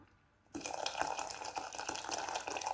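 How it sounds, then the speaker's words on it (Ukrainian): Boiling water poured into a pot, filling it a third to halfway, sets off a steady close splashing gush after a short quiet start and carries on to the end. "Я беру кастрюлю, наливаю на одну третю або до половини води, кип'яток."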